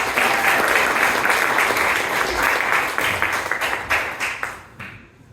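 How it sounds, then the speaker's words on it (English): An audience applauds panelists at a live event, a full, steady wash of clapping from many hands that holds for a few seconds and then tapers off into a few last claps. "Give a round of applause for our panelists."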